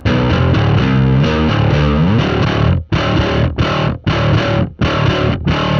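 A heavily distorted bass tone from a Helix amp model, meant to sound like an SVT, plays a gritty riff, loud and close, with choppy stabs toward the end and no talking.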